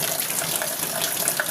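Very strong evening rain pouring without pause, a dense, constant rushing hiss near at hand, alone without talk.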